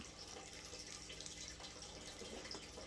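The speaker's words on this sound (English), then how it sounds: "I'm just going to water it like so, let it come out" Fish-tank water trickles from a small container onto an indoor potted plant, a faint, soft, continuous splash and drip with no one talking.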